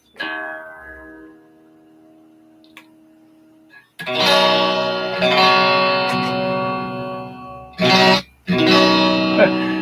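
Clean electric guitar chords from a Strat, slightly out of tune, ring out clearly, first a sustained chord decaying, then strummed chords with bright, undistorted tone, close and moderately loud.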